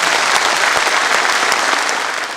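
Sustained audience applause fills a farewell ceremony for Gwangju mayor Kang Un-tae, steady and dense dense clapping from a large crowd, close and loud throughout, no talking over it.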